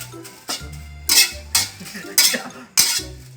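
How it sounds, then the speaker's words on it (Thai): Dry chili being roasted in a pan: a metal utensil scrapes and clanks against the pan in sharp strokes roughly every half second, with a low hum and faint rattling of the chili between strokes. "เดี๋ยวคั่วพริกก่อน"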